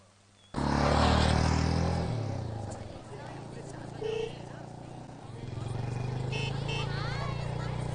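A motorcycle ridden along a road starts with a loud burst and keeps up a steady, close engine drone and rumble for several seconds, with voices faintly talking over it.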